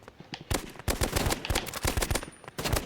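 Rapid handgun shots in a competitive shooter game, a fast string of sharp, loud cracks in quick irregular succession over about three seconds, with no talking.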